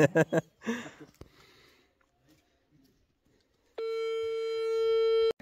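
Steady electronic ringing tone of an outgoing phone video call, starting after a few seconds of brief talk and quiet, then holding loud and continuous to the end.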